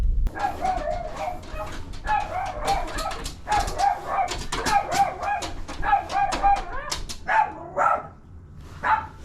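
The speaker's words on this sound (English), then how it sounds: "Almost got mauled by a tiny doggy." A tiny dog barks sharply and repeatedly at a doorstep during a delivery, loud and close in rapid yappy bursts with brief pauses, its cries shrill and insistent.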